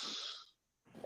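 A single short sneeze, a breathy hissing burst followed by a brief pause and a faint snort, quiet and close.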